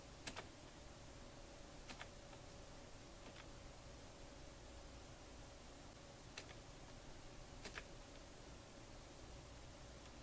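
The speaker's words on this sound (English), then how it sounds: "I'm just pressing enter to tell it okay." Light typing on a computer keyboard with a press of the enter key: a handful of sparse, faint key clicks spaced seconds apart over a quiet background hiss.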